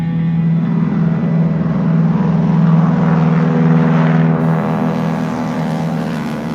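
A propeller airplane drones steadily and loudly through the whole stretch, its engine hum constant and close, tied to a skydiving stunt, with no voices.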